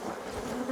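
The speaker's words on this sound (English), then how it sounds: "I'm going to shake some bees in there" Honey bees buzzing close by during a hive split, a steady, dense drone with no voices.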